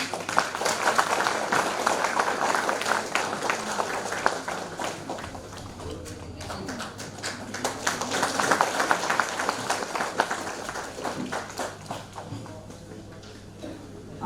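An audience at a ceremony marking an agreement between Uttar Pradesh's Training and Employment Department and Tata Consultancy Services claps in sustained, dense applause that swells and eases over several seconds, with a faint voice beneath.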